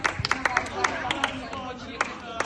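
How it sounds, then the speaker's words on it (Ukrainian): Scattered, uneven clapping from a small group as young footballers receive certificates for their first training year, a few sharp claps over several seconds beneath ongoing speech. "Давай оплески, щоб стоїмо"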